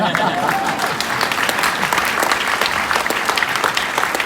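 Keynote audience at a math event claps steadily throughout, a dense, even wash of many hands with no break, close and fairly loud.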